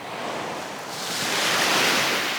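Waves breaking on a tree-lined beach shoreline at Fort Victoria, Isle of Wight: steady loud wash of surf that swells and hisses, with wind buffeting the microphone, no voices.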